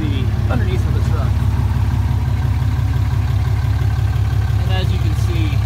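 A 2017 Ram Laramie Cummins diesel pickup with its exhaust deleted idles close by, giving a steady, pulsing low rumble throughout with faint higher whine above it.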